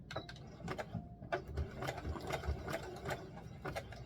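A home sewing machine back stitching at the end of a doll dress seam with a tulle overlay, a steady mechanical whir and rapid clicking of gears and needle, close and continuous with no talk.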